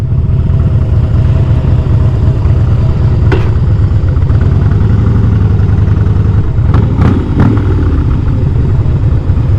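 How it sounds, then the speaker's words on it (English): Big Harley-Davidson V-twin engine idling, a steady loud low-pitched chop-chop pulse heard close up from the rider's seat, with a few brief sharper clicks near the end. "Just a normal idle, it's like a chop, chop, chop, chop, chop"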